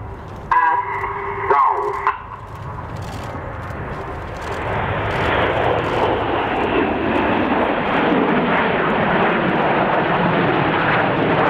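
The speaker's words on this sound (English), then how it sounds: "this is the shuttle roll" Red Arrows jets fly the shuttle roll at the RIAT 2012 airshow, a loud broadband jet roar building after a couple of brief bursts and then holding as a sustained near pass with no one talking.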